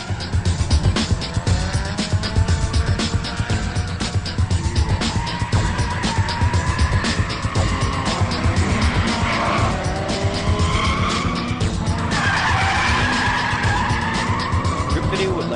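Cars drift around a circuit at a drift event, engines roaring nonstop under long, wavering tyre squeals and skids that swell and fade as they pass close by.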